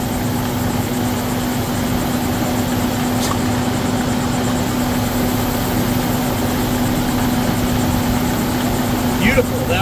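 A Volvo XC90 engine idles with its oil filler cap being tested for PCV valve leakage, giving a steady droning hum with a constant tonal whine throughout, close and loud, and a few brief clicks near the end.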